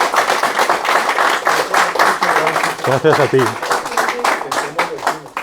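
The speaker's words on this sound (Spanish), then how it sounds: "quería pedir un aplauso para nuestro" A lecture audience at a conference on hypnotherapy and spiritism applauds with steady, dense clapping. A voice speaks briefly over it midway.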